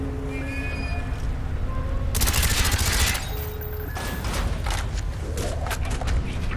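Gunfire in Call of Duty: Black Ops, a sustained loud burst of rapid automatic fire in the middle amid ongoing combat clatter, mechanical creaks and scattered shots before and after.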